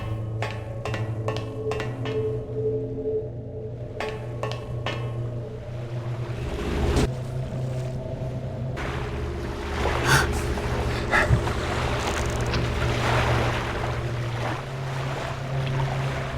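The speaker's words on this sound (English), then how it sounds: "We're gonna jump in the water." A jump into water in the stealth video game Thief II: a steady watery wash and rushing ambience with a few brief clicks early on, then a fuller splashing surge midway, continuous and moderately loud without talk.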